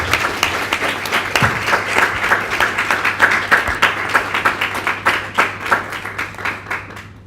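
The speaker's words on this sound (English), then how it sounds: "Big applause to you" An audience at a national assembly session claps warmly as a last question wraps up, a dense burst of many hands that swells and then gradually thins toward the end, loud and close with no talk.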